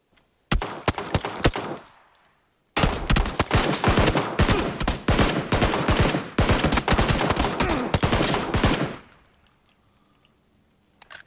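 Rapid automatic gunfire in a PUBG gunfight, loud close bursts of shots, a short pause, then a long sustained volley that tapers off into quiet.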